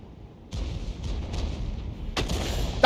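The M12's 155mm main gun fires in War Thunder, a loud sharp report cutting in after a quiet start, followed by rumbling echo and a second sharp crack near the end, with no talk.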